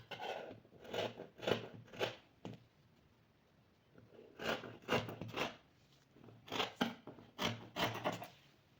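Scissors snipping through fabric pieces for a baby frock, close and quiet, in several bursts of rapid crisp cuts separated by brief pauses.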